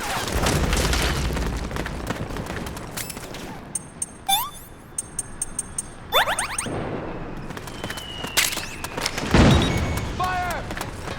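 Gunfire and explosions in the video game Metal Gear Solid 4, with bursts of shots, booms and whooshes scattered across the stretch, some sharp and close, mixed with game sound effects.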